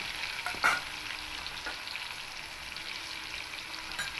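Pieces of pointed gourd (potol), salted, frying in an oil-filled pan with a steady crackling sizzle, a few sharper spits and one louder clatter near the start, no voices.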